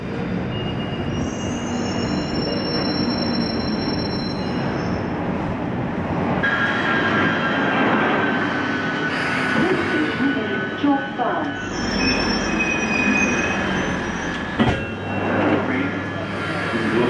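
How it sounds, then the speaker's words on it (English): London Underground tube train at Tottenham Court Road, wheels squealing loudly over a steady rumble of rail noise for the whole stretch, close by on the platform. "just as I've got off the train"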